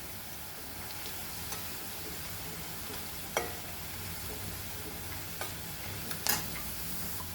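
Onions frying in oil for biryani give a steady, soft sizzle that runs unbroken throughout, with a few brief sharper crackles and stirring clicks rising above it.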